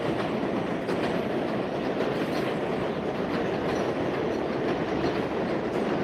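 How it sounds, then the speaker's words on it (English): A train rumbles past close by, a steady loud roar of wheels on rails with faint rhythmic clacking, continuing unbroken throughout. "Hold on. Another train."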